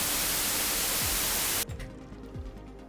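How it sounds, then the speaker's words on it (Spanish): White noise played back in Adobe Audition, a loud, dense, even hiss that cuts off abruptly partway through, leaving quiet room tone with faint low thumps. "Lo que tengo acá cargado es nada más y nada menos que ruido blanco."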